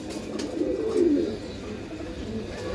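Birmingham roller and Teddy pigeons coo softly in a low, murmuring burst over steady background hiss, faint and close, with no talk.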